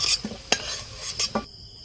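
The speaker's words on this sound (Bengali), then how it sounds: "আলুটা লাল লাল করে ভাজা হয়ে গেছে এখন উঠিয়ে নেব" Potatoes fry in oil in a wok, with a soft sizzle broken by several sharp scraping and clinking strokes as a utensil stirs them. The sound is close and moderately loud, with no talking.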